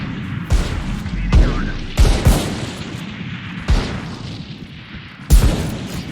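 Valorant gunfire rings out as a series of sharp, loud shots spaced unevenly over several seconds, with a player's voice talking between the bursts.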